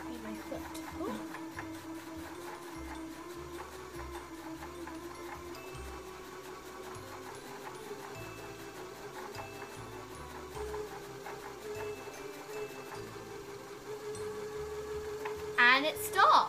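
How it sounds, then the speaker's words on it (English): A Janome DC 3050 sewing machine winds a bobbin with a steady, even mechanical hum and whir that runs unbroken for the whole stretch, with a brief clatter near the end. "The string is turning and the bobbin is turning and it just works so amazingly."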